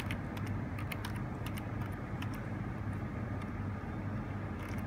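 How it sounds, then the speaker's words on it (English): Computer keyboard keys clatter in quick, irregular bursts as a username is typed into guest check-in software. The keystrokes are close and crisp over a constant low hum, with no talk. "So first you have to type your username,"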